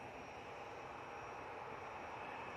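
A Boeing 787 Dreamliner operates at Manchester Airport, heard as a faint, steady distant engine whine and hiss with a thin high tone running through the whole span.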